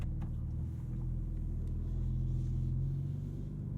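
BMW M4 CSL rolling away over a cobblestone drive, a steady low engine rumble with faint tyre patter, close and continuous throughout.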